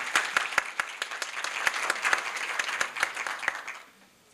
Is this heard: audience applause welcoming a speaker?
yes